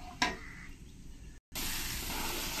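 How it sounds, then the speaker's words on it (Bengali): Chana dal paste frying in hot oil with nigella seeds, fennel and a pinch of asafoetida: a sharp clink at the start, then a soft crackle that drops out briefly before a steady, close sizzling hiss takes over, with no talk. "আমি এখন ফ্রাই করে নেব।"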